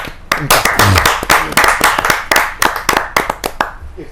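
At a Hindi poetry gathering, a small audience claps to welcome a Rajya Sabha official, loud, close, sharp individual claps in an uneven, lively rhythm that thins out toward the end.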